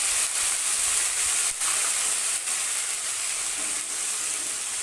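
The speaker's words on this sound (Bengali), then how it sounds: "আদা রসুন ভাজা হয়ে গেছে" Ginger-garlic paste fries in mustard oil for a rohu fish curry, giving a continuous bright hiss with faint pops, close and steady from start to finish.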